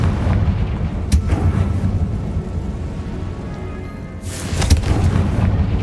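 Confringo blasting spell explosion in the Hogwarts Legacy video game, a series of booming bursts over a dense rumbling low-end bed, with a sharp blast early on and a louder burst near the end.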